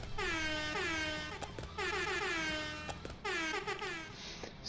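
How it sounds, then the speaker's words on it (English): An air horn emote in Fortnite blares several times in long, wavering, descending blasts, loud and close, with short pauses between. "Air horn."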